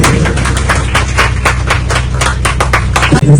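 A crowd on a budget boat trip in Alappuzha applauds Kudumbashree workers with a run of quick, overlapping claps over a steady low engine hum, ending abruptly.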